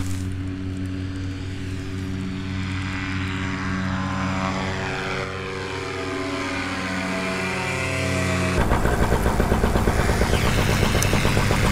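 A paramotor's propeller engine drones steadily during launch at a camp-and-fly weekend, its pitch sliding as it passes, then a second engine roars louder and closer near the end; no one speaks.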